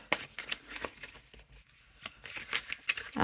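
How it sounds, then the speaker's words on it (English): A slippery tarot deck being shuffled by hand, with repeated quick riffling bursts of card flutter in short irregular runs and a brief pause midway, close and fairly loud with no talk. "So it shuffles nicely."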